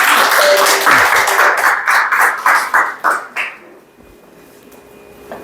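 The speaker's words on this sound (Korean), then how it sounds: "우리 강의를 박수로 맞이하겠습니다." An audience claps to welcome a lecturer at a talk, a burst of applause that thins into a few separate claps and fades to quiet within a few seconds.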